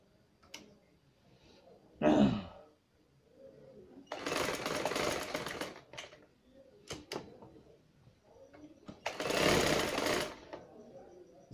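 A sewing machine stitches a trouser waistband in two sustained loud bursts of rapid whirring, with shorter clicks and handling sounds between them and no voices.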